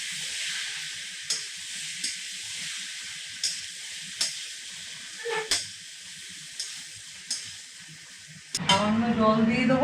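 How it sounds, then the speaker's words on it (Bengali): Spices frying in oil for a tadka give a steady, hissing sizzle, broken by periodic soft clicks of stirring, before a voice cuts in at the end. "মশলাটা আমার ভাজা ভাজা হয়ে গেছে"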